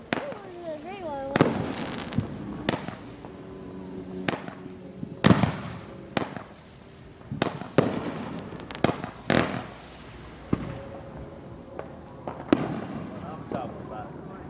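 Fireworks burst outdoors in a rapid series of about a dozen sharp bangs at irregular intervals, some with whistling tails and crackle, while people talk and shout nearby.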